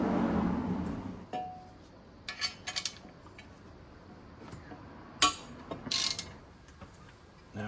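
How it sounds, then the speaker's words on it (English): Socket wrench on Subaru WRX strut brace bolts, several short bursts of ratcheting clicks separated by quiet pauses, close and moderately loud with no talk. "We're going to need a big 17 mil socket, and it was about a 10 mil Allen key. And we want to loosen these off so that the ends are flexible."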